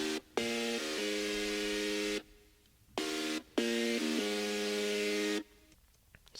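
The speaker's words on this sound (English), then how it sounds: "It's kind of like a lead type of thing" A bright, buzzy synth lead in a beat plays a short stepped melodic phrase twice, with brief silences between the passages.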